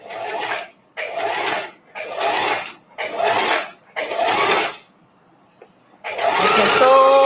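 A sewing machine stitches fabric scraps into a strip in five short, evenly spaced bursts, each about half a second to a second long, followed by a pause and a final longer run. The sound is close and loud.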